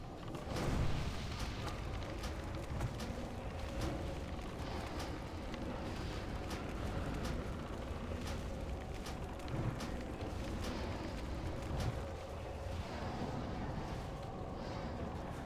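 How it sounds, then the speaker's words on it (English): Arcane explosions in a World of Warcraft raid at Tempest Keep during the Kael phase four fight, heard as a dense, continuous rumble of booms and crackling blasts that stays loud throughout the clip. "It's arcane explosions, so you don't want to be standing anywhere near it."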